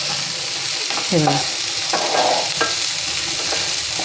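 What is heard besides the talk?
egg pieces being stirred and fried on high flame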